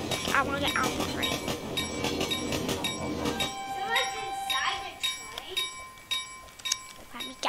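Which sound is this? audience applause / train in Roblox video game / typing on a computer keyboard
train in Roblox video game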